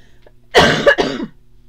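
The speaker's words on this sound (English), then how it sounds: "I'm feeling like I need to cough here for just a second" A person coughs close to the microphone in two quick harsh bursts, then it goes quiet in a calm indoor room.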